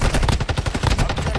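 Assault rifle fire from Warzone Mobile sounds as a fast, even stream of loud, close shots, roughly a dozen cracks per second, with no pause.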